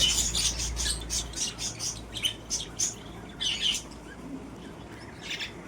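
Pet birds kept indoors give a run of close, sharp, high chirps and squawks in quick bursts, pausing briefly between calls.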